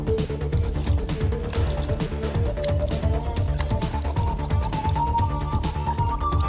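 Cold water from a tank splashed repeatedly onto a person's face during a no-reaction challenge game, a busy stream of wet splashes and drips, close and continuous, over a low rumbling background with no clear talking.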